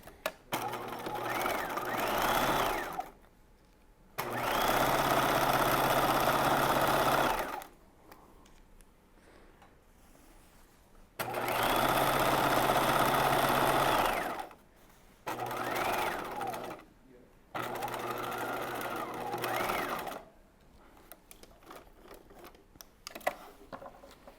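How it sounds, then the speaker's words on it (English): Sewing machine stitching a bodice seam at regular stitch length, running in loud, steady whirring bursts of several seconds each, separated by short pauses, with a small whine as it speeds up and slows. "So I'm going to stitch with my regular stitch length now, not the basting length."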